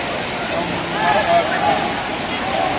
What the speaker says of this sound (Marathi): मोठा धबधबा आहे